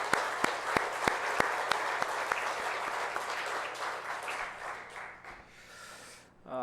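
A church congregation at a Sunday service in Korea claps in gratitude, a broad roomy applause with several sharp individual claps up front that thins and fades toward the end.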